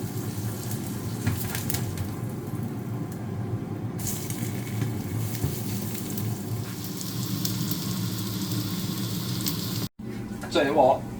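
Hash browns made of potato and onion fry in a hot pan with a steady, loud, unbroken sizzle that fills the whole stretch and stops abruptly near the end.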